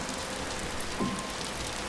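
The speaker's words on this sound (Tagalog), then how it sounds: "Umuulan na naman sa bubong ng 7-Eleven." Steady rain patters on a 7-Eleven convenience store roof in the video game Until Then, a dense, even hiss of drops with no voices.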